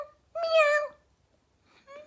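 A person's voice imitates a cat's meow, one drawn-out call followed after a pause by the start of another, close and clear.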